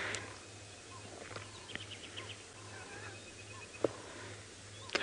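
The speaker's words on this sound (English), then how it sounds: "listening to the various bird calls and just enjoying the atmosphere" Assorted bird calls scattered across a quiet morning in the African bush, brief chirps and tweets coming from various distances over a low steady background hum, with a couple of sharper nearby notes.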